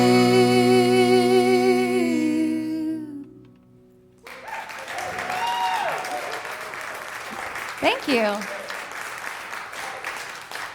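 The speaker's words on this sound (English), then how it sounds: "Is that real applause I hear out there?" An audience breaks into applause after a song at a live music show, the clapping swelling and carrying on with a few whoops, while a performer speaks briefly over it.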